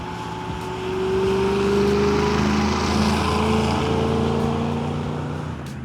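A Matador Red 1957 Chevrolet Bel Air convertible engine rumbles steadily nearby as the car turns around, its low drone swelling slightly and then holding.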